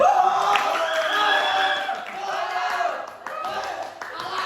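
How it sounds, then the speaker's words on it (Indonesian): Classroom of students clapping after a group presentation, a brief scattered round of applause heard close, mixed with voices and cheering chatter. "Terakhir, tepuk tangan."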